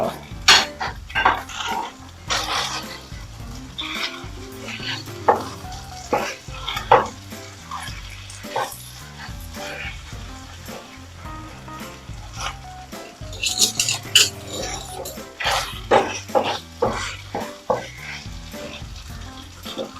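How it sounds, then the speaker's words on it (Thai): Pad Thai noodles with egg stir-fried in a pan, sizzling steadily while a utensil scrapes and clatters against the metal in quick, irregular strokes, close and fairly loud with no talking. "อันนี้แห้งแล้วได้ที่แล้วก็ตักไข่คืน ไปผัดต่อ"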